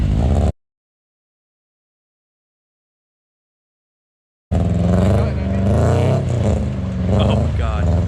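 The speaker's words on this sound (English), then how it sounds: "Lowered car in the mud." A lowered car revs and churns through mud, its loud engine roar rising after a short burst and several seconds of silence, with shouting voices mixed over the engine.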